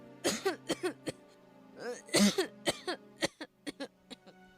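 An 8-year-old boy with a cold coughs repeatedly in a close, loud run of short harsh bursts with brief gaps, some sounding like throat clearing.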